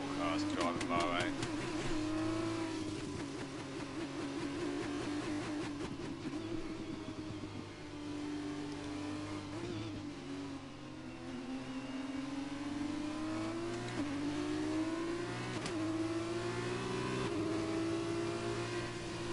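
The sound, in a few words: race cars driving in the F1 video game, Bahrain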